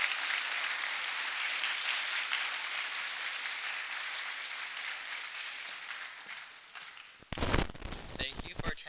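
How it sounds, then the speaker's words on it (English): Audience applause at a National Junior Honor Society induction ceremony in an elementary school, a dense steady clapping that slowly fades, then a final louder burst of claps and room noise near the end. "Please join me in thanking them with a round of applause."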